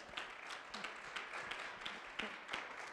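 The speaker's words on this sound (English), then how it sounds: "Round of applause." An audience at an afternoon forum gives a round of applause as a guest speaker is introduced, dense overlapping claps sustained throughout at moderate level with a few sharper strikes.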